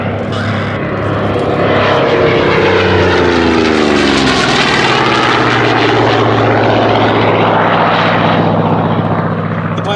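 A Goodyear Corsair FG-1D propeller fighter makes a loud, close pass at the Shuttleworth Fly Navy Airshow, its engine roar rising and then falling in pitch as it sweeps by, droning on throughout.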